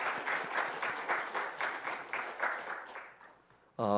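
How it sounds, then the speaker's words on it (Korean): A church congregation at an evening revival service claps together in sustained, dense applause for about three seconds, then a loud sustained tone abruptly cuts in as the clapping fades. "우리 다 함께 하나님께 영광의 박수를 올려드리겠습니다."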